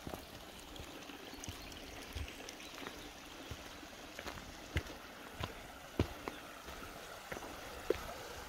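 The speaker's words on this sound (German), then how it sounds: "Da bin ich jetzt wieder ganz am Bach." A mountain stream on a hiking trail in the Emmental, Switzerland, flows in a steady soft rush, with scattered faint clicks and splashes over the continuous water noise.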